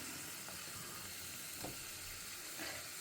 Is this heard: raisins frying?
yes